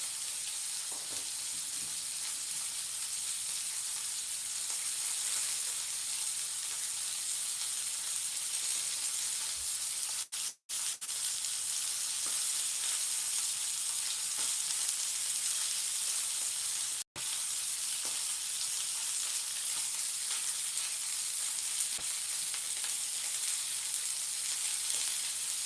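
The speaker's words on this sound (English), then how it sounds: "Get a little bit of oil back on. Get that edge seared up." Steak sears in oil in a pan, a bright continuous sizzle and hiss that lasts throughout with two brief breaks and no talking.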